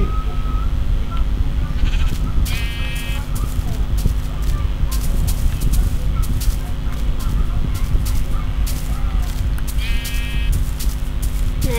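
Sheep bleat twice in Minecraft, with short, separate calls spaced well apart over a steady bed of game ambience and low rumble.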